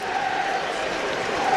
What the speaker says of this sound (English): which gets a round of applause across Villa Park